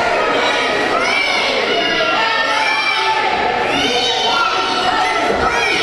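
Video game wrestling crowd at a UWC Online match, a loud, dense roar of shouting and cheering that sustains throughout with no letup.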